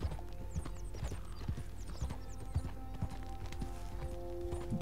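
Horse hooves clip-clop steadily in Red Dead Redemption 2, a close, continuous rhythmic trot with an occasional whinny over a faint background of game ambience.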